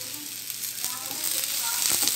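Onions fry in a pan of hot oil while making a paneer gravy, a constant close sizzle with occasional crackles and light stirring scrapes that grow slightly louder.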